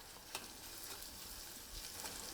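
Onions sautéing with salt in a pan over a low flame, a steady soft sizzle and crackle with faint occasional pops, close and continuous with no talking.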